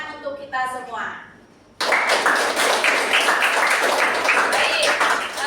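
A short spoken phrase gives way to a group clapping together, a dense and sustained round of applause that continues steadily.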